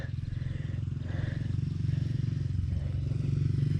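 A dirt bike engine runs steadily at close range, a continuous low buzzing drone with slight rises in pitch as the rider goes, over faint background noise.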